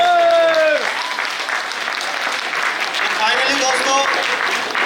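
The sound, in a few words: audience applause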